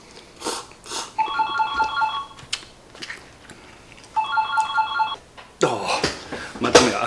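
A telephone rings just after cup noodles are slurped. Two separate bursts of warbling electronic ringing sound about three seconds apart, with mouth and eating noises around them and a louder clatter at the end.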